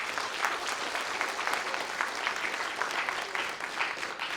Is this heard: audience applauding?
yes